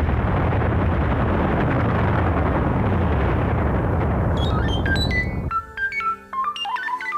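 A uranium cannon fires as a radio drama sound effect, a long, loud roaring blast that rumbles for several seconds before breaking off into scattered electronic beeps and tones.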